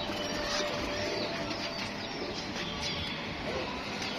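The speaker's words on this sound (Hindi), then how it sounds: "ये वो सारे कबूतर कबूतर जी बहुत ही माशाल्लाह हेल्दी एक्टिव कबूतर है" Golden pigeons flutter and shuffle in a loft, soft wing flaps and faint coos half buried in a constant hiss of background noise.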